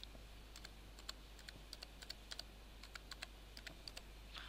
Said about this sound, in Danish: Indtast dit låner- eller CPR-nummer,